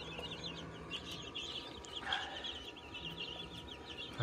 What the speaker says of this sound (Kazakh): балапандарды екіге бөліп қойдым өйстіп.